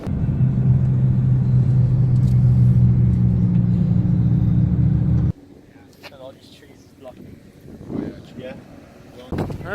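A Nissan GT-R Nismo sports car engine drones low and steady for several seconds while driving laps, then cuts off, leaving quieter background sounds.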